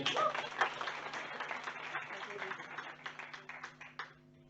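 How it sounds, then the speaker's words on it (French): An audience at a political gathering on the citizens' initiative referendum applauds, a dense burst of clapping that thins into scattered individual claps and fades out near the end. "Vincent, on peut applaudir également."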